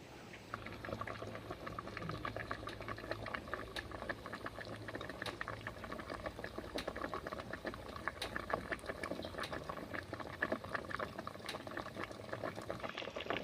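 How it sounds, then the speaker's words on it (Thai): Water boils steadily in a pot for a Thai Isan bamboo shoot curry, a constant bubbling and popping rumble at low volume, with no speech over it. "เดี๋ยวเขาล่อให้น้ำเดือดครับ"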